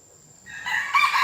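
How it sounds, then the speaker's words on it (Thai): Rooster that is a jungle fowl crossed with a domestic chicken crows once, a single rising call starting faintly and swelling loud, heard alone outdoors at a Thai forest temple. "ไก่ป่า ผสมไก่บ้าน"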